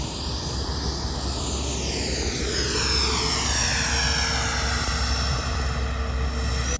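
A radio-controlled B-2 stealth bomber model airplane flies past, its loud, continuous engine whine sweeping down in pitch as it passes close by and then moves away. No one speaks.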